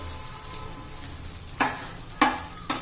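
An egg sizzles steadily as it fries in a pan for egg chilli fry, with three sharp spatula scrapes and soft thuds as it is folded and flipped; nobody talks.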